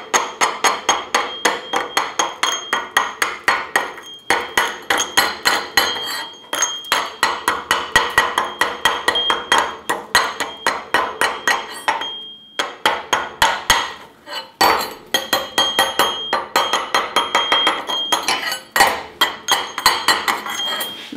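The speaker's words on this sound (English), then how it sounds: "we're gonna need to chip the slag off here" Rapid metallic chipping hammer strikes knock slag off a 7018 stick weld, a close, bright clinking in steady bursts separated by short pauses.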